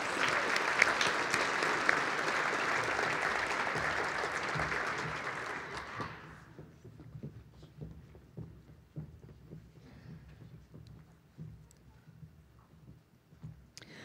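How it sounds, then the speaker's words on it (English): Luncheon audience applauds high school athletes at a girls and women in sports event, a steady dense round of clapping for about six seconds that cuts off, leaving scattered footsteps and room noise. "Round of applause for the Mountain Vista High School athletes."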